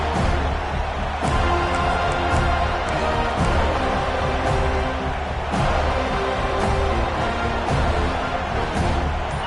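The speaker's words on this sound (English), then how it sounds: "This crowd ready to make its presence known." A college football stadium crowd during a Florida State versus Florida game roars as a steady, dense wash of noise after a kick return, loud and continuous with scattered shouts throughout.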